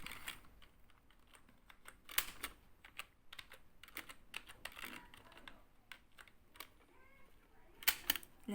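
Fingers type text on a computer keyboard in Microsoft Word, a quiet, steady run of light key clicks with irregular spacing and a few sharper taps.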